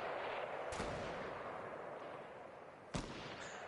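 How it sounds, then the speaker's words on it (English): Two sharp sniper rifle shots in Fortnite, spaced about two seconds apart, each a single crack over a steady background hiss, with the second slightly louder. "Well, that's a sniper."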